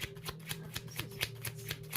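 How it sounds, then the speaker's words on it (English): A deck of tarot cards is shuffled by hand in quick, even bursts, each soft riffling slap arriving roughly every quarter second, close and moderately quiet, with no talking. "I need to shuffle."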